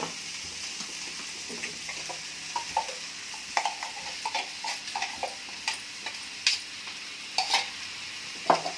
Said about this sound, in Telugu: వేసి ఒకసారి అంతా తిప్పి కొంచెం సేపు వేయించుకోవాలి.